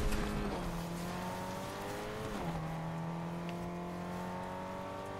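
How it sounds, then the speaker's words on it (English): A car engine drones steadily in Fortnite, holding a constant pitch that shifts down twice as if changing gear, close and continuous with faint tire noise. "What if I can drive a car onto the island?"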